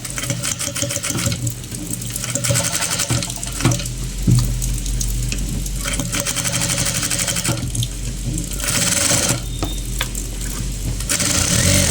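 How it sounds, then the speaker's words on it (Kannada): A sewing machine stitches a uniform shirt, running with a steady, continuous mechanical whir for the whole stretch with only slight changes in intensity and no voices. "ಈಗ ಹೊಲಿಗೆ ಹಾಕೋದು"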